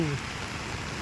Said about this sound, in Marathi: प्रचंड पाऊस आहे बीडमध्ये.